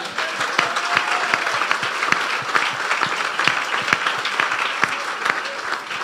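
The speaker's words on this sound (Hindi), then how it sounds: "यीशु के लिए जोरदार तालियां।" A church congregation applauds loudly in a sustained burst of dense clapping during a Christian sermon, steady and close throughout with no pause.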